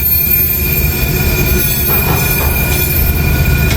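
A freight train with DPU locomotives rolls past close by, its wheels letting out a loud, sustained metallic squeal over a steady rumble of cars, with no talking.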